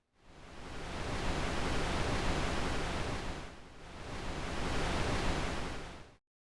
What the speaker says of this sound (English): we do have a noise oscillator over here in the filter section, so we can take away our first oscillator and introduce the noise